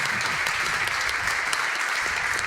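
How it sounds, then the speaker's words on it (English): A player in a Clash of Clans Town Hall 12 update livestream claps for himself, a dense, steady patter of rapid hand claps lasting a few seconds, fairly faint and alone. "Godson clapping it up, clapping for himself."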